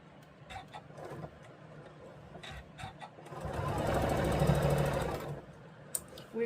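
A sewing machine stitches pieced quilt blocks with gingham fabric, running in a steady fast burst for about two seconds in the middle, with softer handling and fabric sounds before and after.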